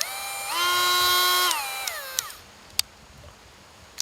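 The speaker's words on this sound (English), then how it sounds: "let's see how much power we have by just drilling a hole in this edge right here" Close-up whine of a Dremel Lite rotary tool spinning up at speed 2 and drilling into the edge of poplar wood, holding a steady pitch before winding down, followed by a few sharp clicks.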